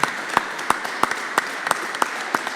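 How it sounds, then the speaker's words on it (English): A small live audience claps at a technology panel discussion, sparse and uneven, with distinct individual claps spaced roughly every third of a second, close and fairly quiet. "I think we can clap, right?"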